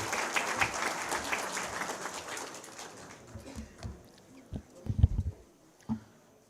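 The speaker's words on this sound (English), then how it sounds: "Please welcome him with a big round of applause." An audience in a conference hall applauds to welcome a speaker at a public health and AI event in India, steady clapping that thins out into a few scattered, louder claps near the end.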